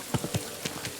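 Horse hooves clip-clop in Kingdom Come: Deliverance II, four or five distinct, unevenly spaced steps at moderate distance, alone without talk.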